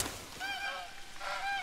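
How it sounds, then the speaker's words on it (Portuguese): A goose in the hunting video game The Hunter: Call of the Wild gives two bursts of loud, nasal honks, each a short run of calls close by with no talk. "Aí o ganso pousou ali, eu não vi"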